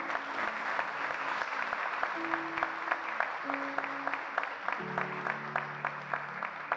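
A church congregation claps along for Jesus during a Sunday morning service, rhythmic hand claps moderately loud over sustained keyboard chords, with occasional voices in the crowd.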